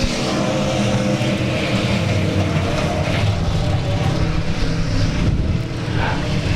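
Race cars roar off the line at the start of a race at South Texas Speedway, a loud, dense engine din that holds steady and unbroken throughout.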